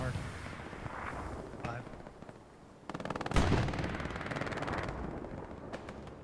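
Battlefield gunfire in a World War II shooter game match with Panzer IV tanks and US Rangers, dense bursts and explosions rolling through, one heavy close blast partway, with a voice talking over parts of it.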